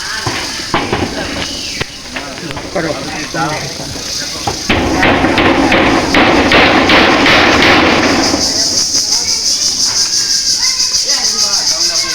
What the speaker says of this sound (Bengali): মামারা কাজ করতেছে, বেড়া দিচ্ছে মামারা